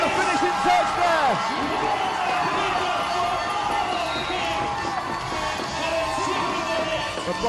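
Excited home crowd cheering and shouting at a 2015 under-18 men's National Volleyball League match, a dense, sustained roar of many voices that stays loud and near throughout.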